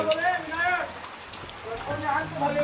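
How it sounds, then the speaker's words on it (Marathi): Steady rain patters on a surface throughout in a village, while people talk and call out intermittently over the soft, even downpour. "एक नंबर पाऊस पडतोय गावाला"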